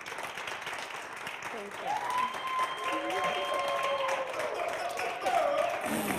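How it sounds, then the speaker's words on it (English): Crowd applause for a speaker at a live talk event, a continuous wash of clapping throughout, with a voice briefly speaking over it and a tonal squeal rising partway through. "So let's give a round of applause for Manna"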